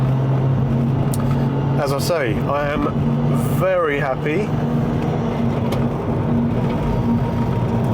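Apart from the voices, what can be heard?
Porsche 996 new exhaust engine sound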